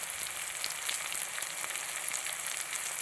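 Curry leaves dropped into hot oil in a pan while making Kerala-style upma hiss and spit in a dense, bright, continuous sizzle with small pops throughout, close and loud.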